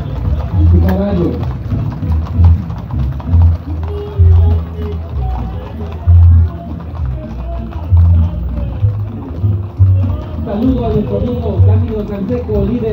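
Horse hooves clip-clop at a carnival cavalcade parade in Paso del Macho, Veracruz, a steady rhythmic patter heard throughout beneath an announcer's amplified talk and crowd noise.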